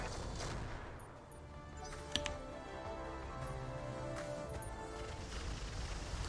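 Battle mechs in the Battletech game trade weapons fire, with scattered sharp shots and a dense rumbling barrage building over a steady low roar.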